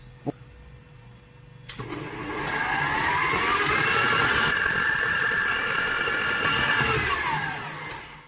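Stand mixer kneading Neapolitan pizza dough at speed 2, a steady motor whir that swells louder after a click start, holding an even droning pitch for several seconds before easing off.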